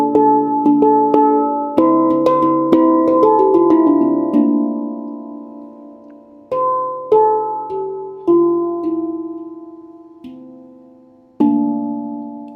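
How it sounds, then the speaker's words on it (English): Melodic metallic tones from a handpan, struck in quick runs that slow to single ringing notes with long decays, played alone. "just gonna go down the handpan basically"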